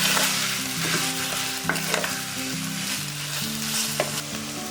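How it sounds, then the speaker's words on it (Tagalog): Beef sautéed with onions for beef broccoli sizzles loudly and steadily in a pan, with brief stirring scrapes and steady tonal music playing underneath. "Igisa lang ito hanggang sa ma-absorb ng meat yung aroma ng ginisa"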